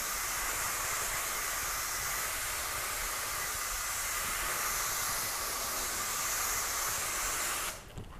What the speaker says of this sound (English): we can go ahead and mist over the panel